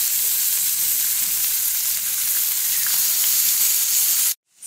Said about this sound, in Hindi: सो पोम्फ्रेट इधर मेरा फ्राई हो रहा है, ऑलमोस्ट हो गया है।